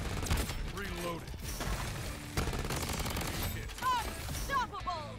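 Rapid gunfire from the Frostbite Scar rifle in the shooter game Bloodstrike, a steady stream of close shots with mechanical clicks and in-game effects throughout, while players talk over it.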